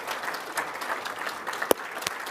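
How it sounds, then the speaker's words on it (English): Audience applause at a Tasmania Australian of the Year awards ceremony, steady dense clapping across the whole stretch with a couple of sharper individual claps standing out. "let's give them all a round of applause now."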